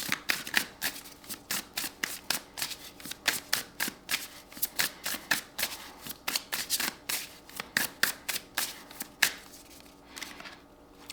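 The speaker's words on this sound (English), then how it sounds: "Let's get a closing message from Earth and Bone Oracle." Earth and Bone Oracle cards are shuffled in a steady run of crisp riffling bursts, close and fairly quiet, repeating rhythmically with no talking.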